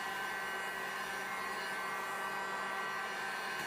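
Heat gun blowing steadily on vinyl stripe glue on a 2012 Ford Mustang, a continuous even airy whir with no breaks, heard alone.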